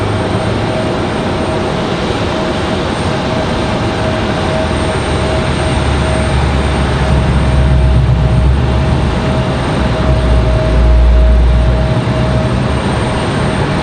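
Embraer jet roaring steadily at Raleigh-Durham airport on a stormy day, a loud sustained engine rumble and whine that swells slightly as it continues, with no talking.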